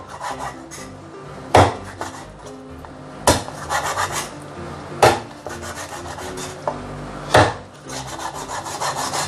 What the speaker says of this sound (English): Ooh, this chicken is not easy to cut